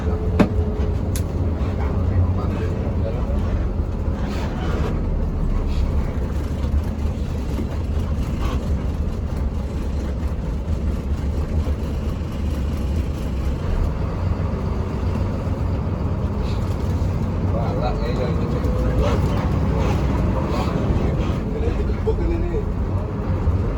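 An intercity Sumber Alam bus with a front-mounted engine drives out of the terminal, its heavy engine droning steadily up close throughout, with occasional rattles and a voice speaking over it.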